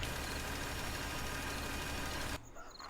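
A tractor engine idles in the farming game Farming Simulator 2013. The low rumble is loud and steady, then drops suddenly to a quieter, thinner hum near the end.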